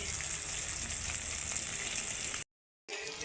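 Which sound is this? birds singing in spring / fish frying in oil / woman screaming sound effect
fish frying in oil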